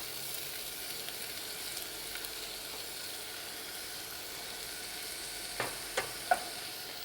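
Onions sweating in butter over very gentle heat, a faint soft sizzle held low and steady, with a few brief clinks near the end.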